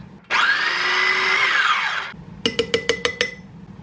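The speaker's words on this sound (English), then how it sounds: "put it in our blender, mash it up" A kitchen blender whirs steadily for about two seconds, mashing scooped-out filling into puree, then stops; a quick run of six sharp glassy clinks from mason jars follows.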